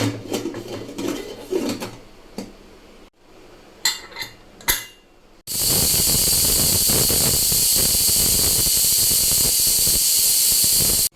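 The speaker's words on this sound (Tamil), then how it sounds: "பாருங்க விசில்லாம் வந்துச்சு" A pressure cooker cooking a vegetable stew clanks and rattles briefly, then breaks into a loud, continuous high whistle and steam hiss that carries on steadily to the end.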